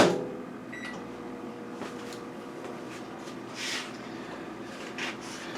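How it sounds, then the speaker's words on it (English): A microwave oven hums steadily with a low drone, joined by a few faint clicks and rattles. "I'm going to stick it in the microwave and let it melt for 1 minute."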